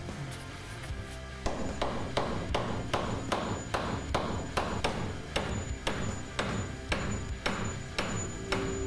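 A hammer taps steadily and evenly on a sailing boat, about fifteen sharp strikes in a regular rhythm, close and loud with no talking.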